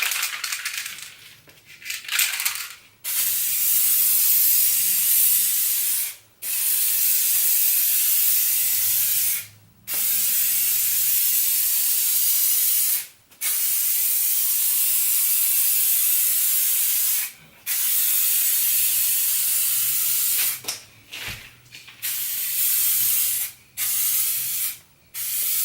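Spray Max aerosol can of color-matched paint laying down a light coat, heard as a series of steady close hisses in several bursts of a few seconds each, separated by brief pauses, with no talking.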